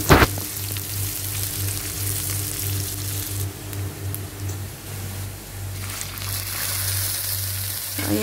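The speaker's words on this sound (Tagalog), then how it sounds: "maglagay na tayo ng mantika at magisa ng luya" Ginger, garlic and onion sauté in hot cooking oil while making chicken feet, giving a steady, close sizzle that continues evenly throughout.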